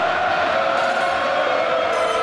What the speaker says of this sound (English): The crowd are getting very excited.